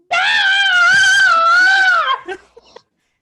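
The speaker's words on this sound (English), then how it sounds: "She screams and screams." A woman screams in one long, loud, sustained shriek lasting about two seconds, then trails off into a few faint breathy gasps, heard alone without talk, as a dramatic scream in a table read of the mystery Clue.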